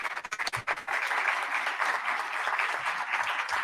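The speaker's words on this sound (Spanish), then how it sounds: "Un fuerte aplauso, por favor," An audience at a university book fair gives a full round of applause, dense and steady clapping that starts with a few scattered claps and then settles into a sustained, fairly loud ovation.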